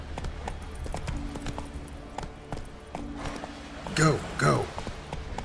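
Horse hooves clip-clop at a gallop while riding through a valley in The Witcher 3, a steady rhythmic beat under a man's speech, with two louder bursts near the end.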